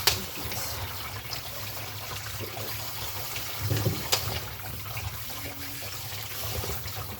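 Dried fruit is rinsed by hand under a running kitchen tap, a continuous trickling, splashing stream with occasional louder rustles and knocks as the pieces are rubbed and moved.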